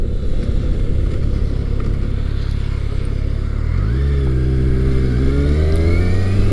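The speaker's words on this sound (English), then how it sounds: "This thing really comes on strong when you rev it higher in the rev range, and it sounds nice" A Kawasaki motorcycle engine, from either a vintage KZ1000 or a modern Versys 1000 LT, starts with a steady drone and then revs upward in rising sweeps, loud and close, with wind noise throughout.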